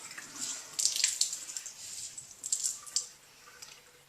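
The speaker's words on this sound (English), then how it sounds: "And then you want to wring it out." A Norwex microfiber cloth is wrung out, giving soft squishing and a run of close, quiet water drips and splashes that come in short bursts.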